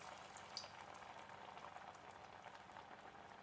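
Lentil and jackfruit seed vada frying in hot coconut oil, a steady, soft bubbling sizzle with faint crackles, quiet and continuous throughout.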